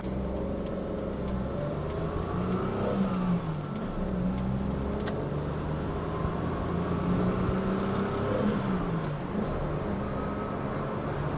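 A small Perodua Kelisa hatchback with a manual gearbox accelerates, its engine note rising and falling through gear changes as a steady mid-pitched drone, heard from inside with no talking.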